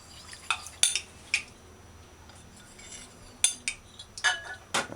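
Metal spoon stirring a cornstarch mixture in a bowl, giving scattered sharp clinks and scrapes, a few loud taps near the start and more clustered toward the end over a quiet background.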